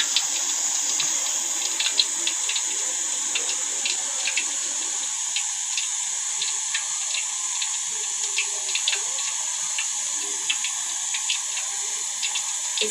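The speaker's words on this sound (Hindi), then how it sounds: "इस तरह पानी में ऐड करेंगे।" Water splashing and trickling steadily in a kitchen as chicken wings are dipped in water while being coated in flour for crispy KFC-style fried chicken, with faint clicks of handling throughout.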